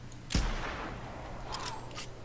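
A single sharp rifle gunshot in the video game The Hunter 2017 cracks near the start, followed by a fading echo and a few faint clicks.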